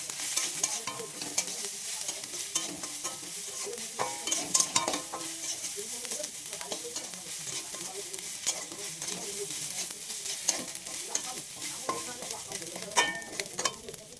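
Fried gugli snails being stirred in a pan: a steady sizzle with repeated scraping and clinking of a spoon against the metal, continuous and fairly close, with no talking.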